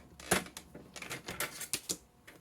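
Blade scoring and cutting through a magnet sheet for die sets: a run of quick, dry scraping strokes and clicks, close and fairly quiet, with uneven spacing.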